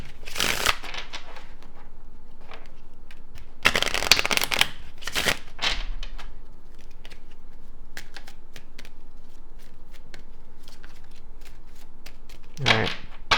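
A Kipper Oracle deck being shuffled during a tarot reading, with bursts of card riffling and flutter separated by quieter handling and soft background noise.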